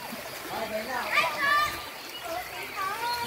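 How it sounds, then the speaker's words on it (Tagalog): Children bathe in a river, with water splashing and sloshing in short bursts among excited kids' voices and chatter. The splashing is fairly close and moderately loud. "Yo, daming bata. Ang daming naliligo."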